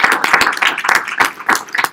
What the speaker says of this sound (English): Have a round of applause for members of the team.